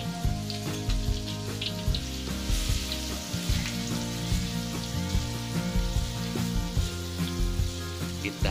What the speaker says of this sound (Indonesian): Kita tumis bawang putih terlebih dahulu sampai aromanya wangi